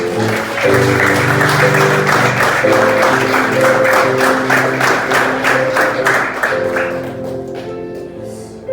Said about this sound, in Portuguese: Dá uma salva de palmas para o Senhor.